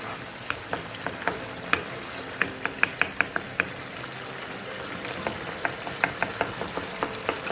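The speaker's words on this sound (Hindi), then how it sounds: "अब मैंने फ्लेम को हाई कर दिया हुआ है और अब मैं इसको 2 से 3 मिनट के लिए भून लूँगी।" Tomatoes and garlic fry on a high flame for mutton karahi, a steady close sizzle with scattered sharp crackles and pops spread through the whole clip, no voices.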